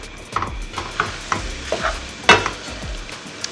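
Pineapple shrimp fried rice is stirred in a pan, rhythmic scraping strokes about every third of a second over a low sizzle, close and with no talk.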